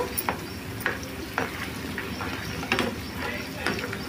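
Aloe vera pieces simmering in coconut oil over a low gas flame, a soft bubbling sizzle with intermittent clinks and scrapes of stirring at a quiet level.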